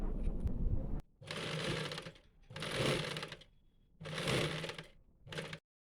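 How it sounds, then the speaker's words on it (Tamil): A sewing machine stitches a silk pattu saree blouse in four short close bursts of rapid mechanical whirring, each separated by a brief pause. "இப்படி வச்சுட்டு இந்த ஓரத்துலேயே நம்ம தைச்சிக்கலாம்."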